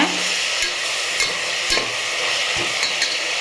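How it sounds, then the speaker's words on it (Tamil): Onions sauté in hot oil for prawn biryani, giving a loud, continuous frying hiss close up, punctuated by a few spoon scrapes against the pan. "நல்லா பொன்னிறமாக வெங்காயம் நல்லா வதங்கட்டும் பாருங்கள் நம்ம வந்து வெங்காயம் வதங்கிட்டு இருக்குது"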